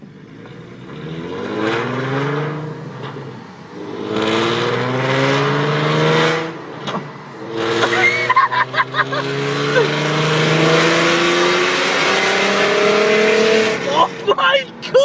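A V6 Mustang with a full Borla exhaust revs hard and loud, its engine note climbing and falling through repeated throttle blips close by, while people talk and shout over it.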